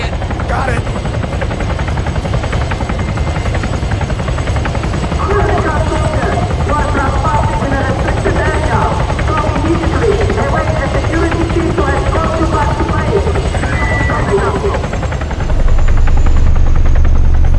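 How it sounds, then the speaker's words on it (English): A helicopter in the Arma 3 video game keeps up a loud, steady rotor drone from start to finish, with the noise swelling near the end and muffled voices partly over it. "Please tell me you didn't just take down that helicopter."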